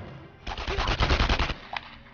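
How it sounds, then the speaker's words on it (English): A burst of rapid machine gun fire rattles for about a second in the World War II shooter Enemy Front, loud and close, followed by a single sharper shot after a brief pause. "I hear machine gun."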